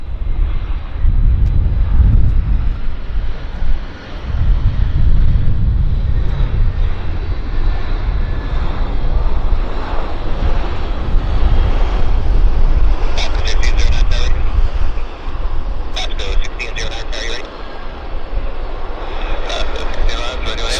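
An airliner touches down twice on the runway at Vancouver Airport, a steady loud engine roar running throughout with brief bumps near the start; a voice talks over it.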